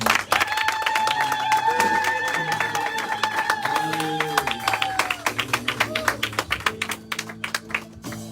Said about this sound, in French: Donnons une acclamation, Seigneur.